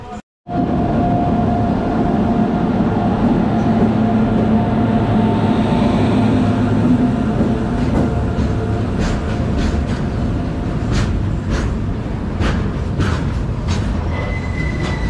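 The Diva Sawantwadi Express, train 10105, runs on the Konkan Railway with a steady loud rumble of wheels and carriages, rhythmic clacks and occasional squeals heard from on board.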